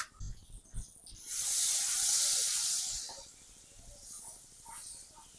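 Butter sizzles in a hot pan on a low flame while paneer curry is cooked; a loud, steady hiss swells after a few soft knocks, then settles into a quieter, continuous crackle.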